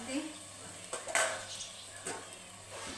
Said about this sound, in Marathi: याच्यावर ठेवायचं झाकण म्हणजे मस्त होतात मग ते.